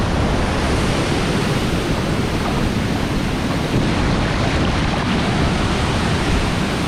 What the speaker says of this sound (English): Get over here in this rushing water.